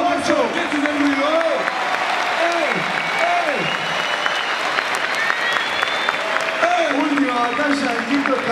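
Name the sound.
crowd applause at a rap battle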